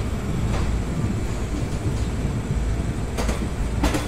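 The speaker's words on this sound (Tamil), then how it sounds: "ட்ரெயின் போகுது." A train moving along the rails, a steady loud rumble and roar with periodic clanks of wheels over joints, heard up close without a break.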